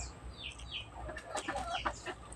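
Domestic backyard chickens, including an ulikba-breed bird, cluck and chirp softly while being fed in the morning, with scattered faint calls over a low background rumble and no talk.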